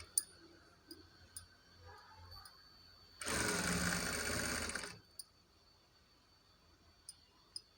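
A sewing machine top-stitches the back of a blouse made from saree cloth, running in one steady whirring burst of about two seconds between faint clicks and handling noises, close and quiet.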